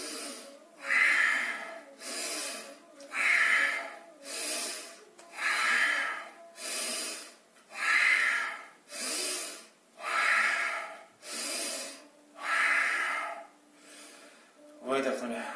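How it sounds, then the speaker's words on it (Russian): Forceful bhastrika yoga breathing during a hatha yoga class, with about a dozen loud, rhythmic bellows-like breaths in an even, steady pattern, close to the microphone. "И теперь у нас пхастрика, это вот движение легких вверх-вниз."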